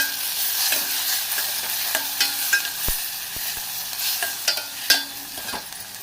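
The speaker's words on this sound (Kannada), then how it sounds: "ಒಂದು ಈರುಳ್ಳಿ ಚೆನ್ನಾಗಿ ಸಣ್ಣಗಚ್ಚಿ ಬೆಂದ ಮೇಲೆ ಈಗ 1 ಟೊಮೆಟೊ ಸಣ್ಣಗಚ್ಚಿ ಹುರ್ಕೋತೀನಿ." Finely chopped onion and tomato frying in ghee in a pan for boti and bun masala, a close continuous sizzle broken by scattered stirring scrapes and light taps of a utensil, with no voices.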